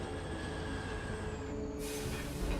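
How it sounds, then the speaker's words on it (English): Train pulling into a stop in the video game Foundry, a low steady rumble with faint whining tones, a hiss of air rising near the end, quiet and without talk. "Where's the train? There it is."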